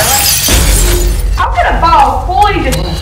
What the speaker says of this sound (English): How can a ball fully just shatter a TV like that?